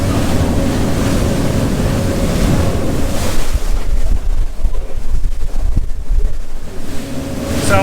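A 37-foot Freeman boat running through waves with its ballast tanks filled, loud steady rush of water and hull spray mixed with strong wind noise buffeting the microphone, no voices.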